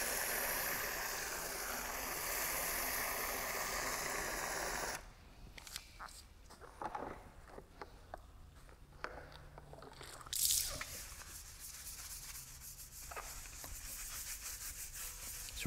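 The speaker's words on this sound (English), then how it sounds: "We use our brushes now to wash the remainder areas of the rim." Brushes scrubbing the sudsy rim of a car wheel, a wet, rough rubbing and squishing. A loud hiss of spray cuts off, then scrubbing continues in close, uneven strokes.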